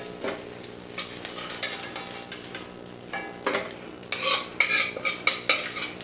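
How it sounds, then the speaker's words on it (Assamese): Potato pieces fry in oil in a pan for a fish dish while a utensil stirs them, giving a soft sizzle under scattered scrapes and sharper metallic clinks that grow louder and more rhythmic toward the end, with no talking. "কিন্তু ৰংচোৱা হোৱালৈকে ভাজি দিম আলুখিনি"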